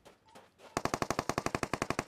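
A rapid, loud burst of automatic gunfire in PUBG Mobile, about fifteen evenly spaced shots fired in a steady rhythm, following a brief quieter moment.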